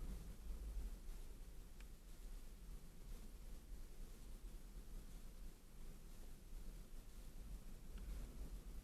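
Strong wind during storm chasing roars and buffets the microphone in a constant, heavy rush with low rumbling gusts throughout.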